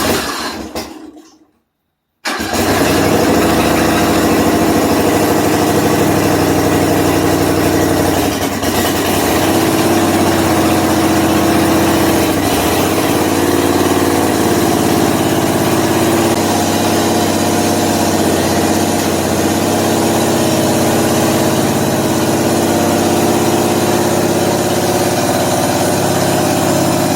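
A skid-steer loader engine runs at a steady idle through a test run, a loud, continuous rumble after a brief silent gap near the start.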